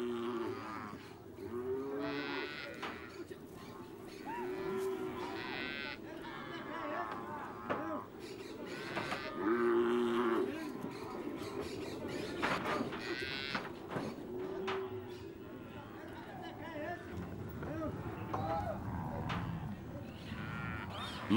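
Calves and cattle mooing repeatedly during branding in the Amazonian marshes, several overlapping bellows near and far over a steady outdoor background, with faint voices mixed in.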